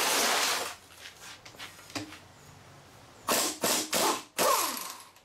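A ratchet with a short socket clicks in several loud, rough bursts close up while tearing down a Jeep 4.2 engine, separated by short pauses, with faint metallic handling in between.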